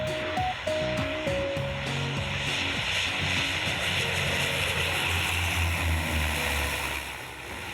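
A propeller airplane on a 45-minute flight from Hoskins, Papua New Guinea, drones loudly and steadily throughout. Music with stepped tones plays over the engine noise, and no one talks.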